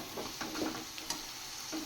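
Spiced masala with chopped tomato frying in a pan and being stirred, a steady soft sizzle broken by a few scraping stirs, close and fairly quiet.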